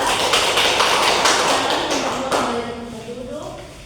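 A class applauds a student group, a brief burst of clapping that fades out over a few seconds while someone speaks.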